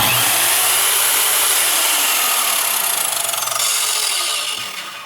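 An Einhell TC-SM 2131 Dual mitre saw whines loudly and continuously, a harsh high-pitched motor scream that begins winding down near the end.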